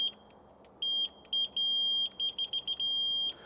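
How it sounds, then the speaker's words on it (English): A Kerdom 4-wheel mobility scooter's little horn gives a run of short, high electronic beeps, about a dozen quick pulses in uneven bursts with two longer held tones, loud and close with no talking. "this does have a little beepy horn,"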